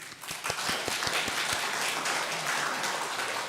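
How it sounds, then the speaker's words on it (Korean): Steady applause from a church congregation for the choir during a Sunday service, dense clapping filling the space at an even, sustained level throughout. "여러분들이 많은 격려의 박수를 부탁드립니다"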